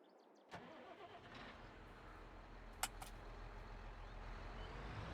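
Tractor engine in Farming Simulator 22 turning over and catching, then settling into a steady low idle hum that slowly builds, with a sharp click partway through.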